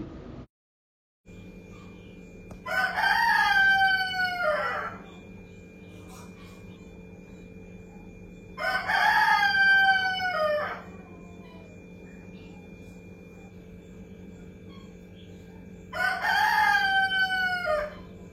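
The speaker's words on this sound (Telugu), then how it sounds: "చూడండి కోళ్ళు వచ్చి ఎలా లేపుతున్నాయో" Roosters crow three times at a farm, each long call rising and falling at even intervals of several seconds, loud and close over a steady low hum.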